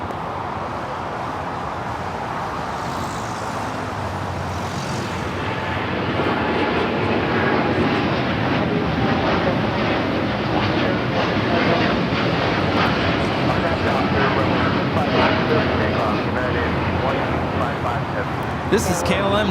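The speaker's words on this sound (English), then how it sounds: "This is KLM 602 taking off to Amsterdam on the 787-9 Dreamliner." A KLM Boeing 787-9 Dreamliner takes off from LAX bound for Amsterdam, its engines a broad, continuous roar that swells and holds for many seconds, with a voice speaking over it.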